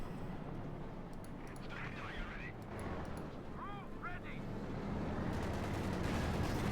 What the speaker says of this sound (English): All around it, the surroundings just explode as the Americans unleash everything against it from